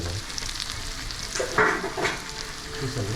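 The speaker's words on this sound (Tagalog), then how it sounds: "Ayan, naprito na ng konti yung sausage." Sausage sizzles and crackles in hot oil in a pan, a steady frying hiss with a few sharper pops and stirring sounds, close up and without talk.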